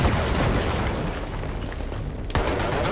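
In Battlefield 3, a tank is destroyed by an anti-tank explosion: a loud, dense rumbling blast and crackle fills the air, fades slightly, then a second sharp boom hits near the end.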